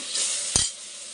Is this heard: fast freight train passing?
no